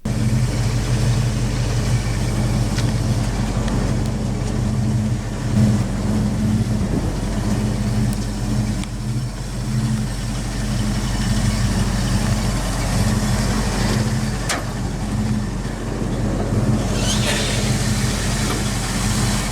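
A 1973 Plymouth Road Runner with a 318 cubic inch LA-series V8 and three-speed automatic idles nearby in a low, steady rumble that holds smooth and unbroken throughout.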